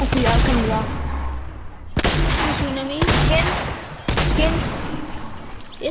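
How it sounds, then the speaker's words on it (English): Gunfire bursts in Fortnite come in repeated loud volleys that break off abruptly, with overlapping talk between players. "But I got shot at, man."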